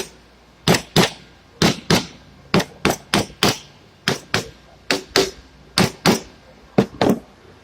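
Hammer tapping the joints of an XJ double cardan driveshaft to loosen them: about eighteen sharp, close metallic knocks, mostly in quick pairs at a steady rhythm, with no talking.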